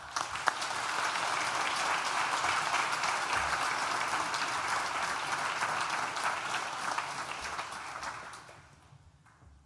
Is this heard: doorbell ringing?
no